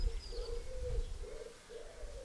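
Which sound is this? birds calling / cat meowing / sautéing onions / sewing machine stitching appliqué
birds calling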